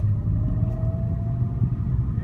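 A 2001 BMW E39 525i with its inline-six engine running smoothly in second gear, a steady close low rumble that holds even throughout with no talk over it.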